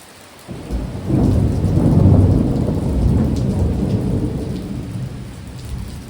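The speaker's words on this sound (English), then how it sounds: "It was a massive thunderstorm" A massive thunderstorm rages overhead, heard from shelter inside a church: heavy rain roars steadily while a deep rumble of thunder swells and rolls through the middle, loud and close, with no voices.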